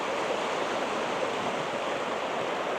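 A creek at an RV park in Twin Falls, Idaho flows in a steady, soft rushing wash, a continuous moderate-level water noise with no voices or other sounds.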